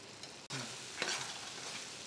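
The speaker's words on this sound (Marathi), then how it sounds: "आपण याला छान थोडंसं परतून घेऊ, अजून थोडंसं तेल सुटू देऊ" Marwadi-style wet garlic chutney is sautéed in oil over low heat, a faint, steady sizzle with soft stirring scrapes close by.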